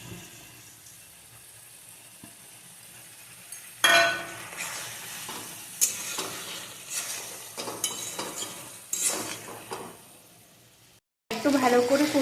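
Spices and drained Gobindobhog rice are stirred and fried in a pan for a pointed gourd and potato curry, with faint hiss at first, then louder sizzling and stirring scrapes, briefly interrupted by running water.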